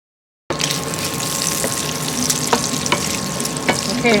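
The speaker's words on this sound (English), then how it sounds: "first thing we're going to do is cook our bacon" Bacon frying in a pan starts abruptly and crackles with a steady, close sizzle, dotted with sharper pops and spits throughout.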